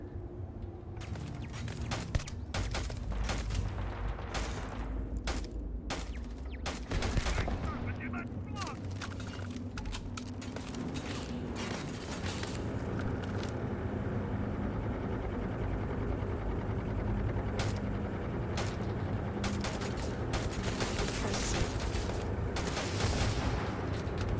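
Turret and weapons fire in the sci-fi game Starfield: Shattered Space, a dense run of sharp bursts and booms over a steady droning background, with some talk mixed in.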